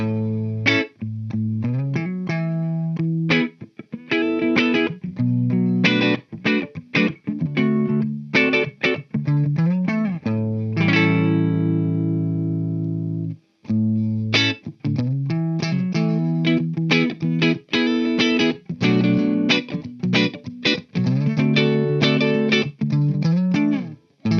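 Heavily distorted electric guitar, sent through a NUX B-8 wireless system into a distortion pedal, playing choppy chords and riffs, loud and continuous with short stops and one sustained ringing chord midway.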